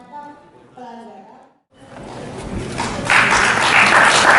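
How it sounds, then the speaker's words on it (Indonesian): Audience applause welcoming a guest at an election supervisory body event in South Kalimantan, Indonesia; after a brief voice and pause, a dense, rising wash of clapping builds and grows loud toward the end. "Kita berikan sekali lagi tepuk tangan sebagai tanda penyambutan kedatangan Bapak Rahmat Bagja"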